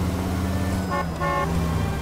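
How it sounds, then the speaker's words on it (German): A car horn honks in the L.A. Noire video game, two short toots close together partway through, over a steady engine and road hum. "Zur Not kann ich ja hupen."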